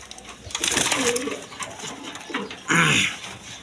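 Breeding pigeons give rolling coos in two or three distinct bursts, close and fairly loud, the last call the strongest, with a little background noise between.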